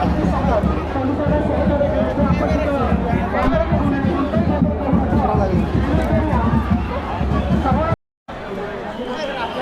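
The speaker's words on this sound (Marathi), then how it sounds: "बेकार गर्दी आहे." A dense crowd presses together at the Ekvira Aai temple palkhi procession, a continuous close babble of many voices and movement that briefly cuts out near the end before resuming.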